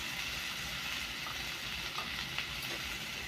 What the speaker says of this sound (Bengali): এবারে ডালটাকে দিয়ে আমি খানিকক্ষণ নেড়ে চেড়ে একটু নুন হলুদ দেবো